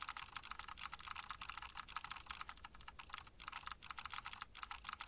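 Rapid, continuous computer keyboard clicks from typing, dense and steady with brief pauses, heard alone without voices.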